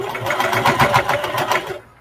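A sewing machine runs a steady top stitch along the fabric edge of a beginner's nursing arm pillow or burp cloth, a close, fast rhythmic whir with a pulsing needle beat that stops abruptly near the end.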